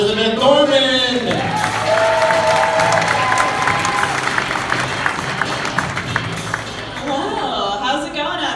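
A comedy club crowd at a stand-up show claps and cheers for a comedian, with steady dense applause and whoops throughout and an announcer's voice over the start.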